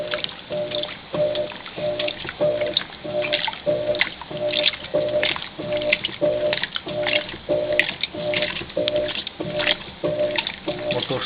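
A Mueller 5 kg washing machine agitating its load, a regular rhythmic churning and sloshing of water repeating about once a second, close and steady.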